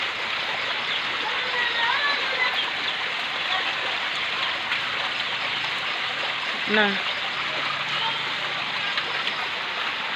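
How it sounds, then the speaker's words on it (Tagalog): Strong rushing floodwater pours through a flooded home garden in a steady broadband roar, close and loud throughout, with someone speaking briefly over it. "kusog kaayo ang tubig"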